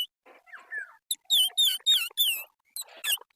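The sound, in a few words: banyan leaf whistle imitating bird chirps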